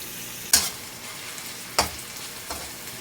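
Thin slices of eggplant fry in a pan for tortang talong with a steady soft sizzle, broken by three sharp stirring or turning clatters, the first two loudest and the last quieter; no one speaks.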